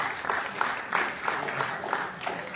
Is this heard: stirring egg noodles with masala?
no